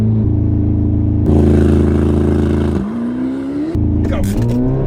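A Corvette ZR1X engine drones loudly at high revs, shifting pitch as it launches in a drag race against a tuned Tesla Model S Plaid, heard close up from inside the cabin.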